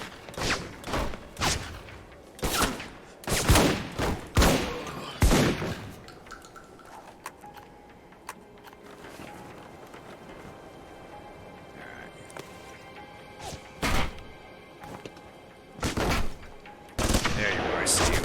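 Machine gun fire in the Alpha Protocol video game rings out in loud, repeated bursts and single shots, clustered early and returning near the end, with quieter stretches of game ambience between.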